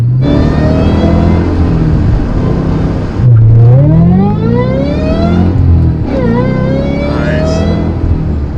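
A Nissan GT-R50 sports car engine revs loudly and close by, climbing through rising pitch sweeps with shifts between them, a continuous powerful roar.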